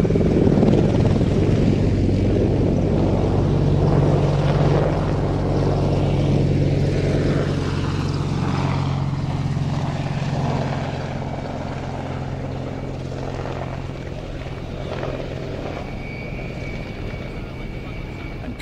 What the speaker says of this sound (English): Coming up on Airshow World right now, it's helicopter time, especially for Adu